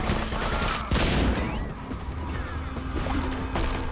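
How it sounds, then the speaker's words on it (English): Explosion in the video game BloodRayne: a sharp crashing blast followed by a rapid series of gunshot-like bangs and debris clatter, close and loud over a low steady hum. "Hey, I actually survived the explosion."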